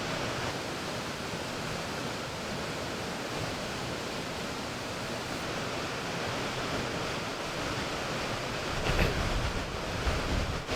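Waterfall in the North Pennines roaring steadily, a loud, constant broadband rush of falling water heard close up, with a brief gust near the end and no voices.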